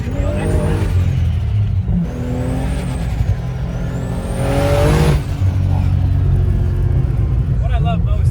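A 1300 HP Nissan Patrol engine revs hard on a ski slope, its pitch climbing and falling in repeated swells over a heavy low rumble, loud and close, with voices talking over parts of it.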